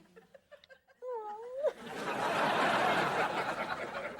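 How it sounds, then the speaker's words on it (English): A cat from a cat video in a sitcom gives a few faint, rising meows, then a long burst of loud, broad crowd laughter takes over. "Hope you enjoy that cat video."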